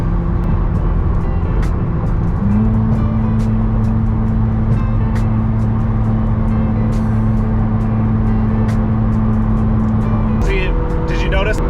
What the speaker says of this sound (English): Notice the pitch of the engine go up as soon as I closed it